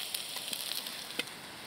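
Onion sizzling in hot fat in a pan at a hunting camp, a faint steady frying hiss with scattered small pops and crackles.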